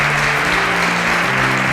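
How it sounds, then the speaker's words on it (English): Audience applause fills a stage at a televised competition as the top five contestants exit; a dense, steady wash of clapping holds for under two seconds with a faint musical tone beneath. "A round of applause for them as they exit"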